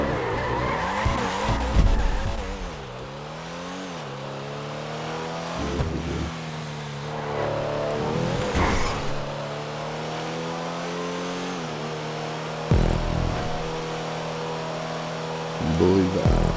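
Open-wheel race car tearing through a fast lap of a Monaco Grand Prix track in GTA Online, its engine revving and shifting steadily through gears with brief tire squeals, loud and continuous throughout.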